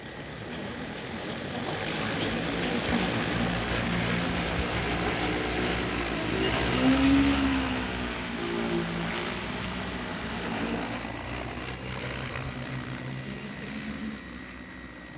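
An EAVision J150 agricultural spraying drone flies over big fields, its rotors giving a steady, broad droning whir that holds at an even level throughout, swelling slightly midway.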